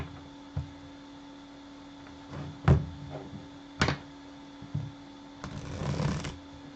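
Soft riffling and slapping of tarot cards being shuffled, several short bursts and a longer flutter near the end, close and quiet over a low steady hum.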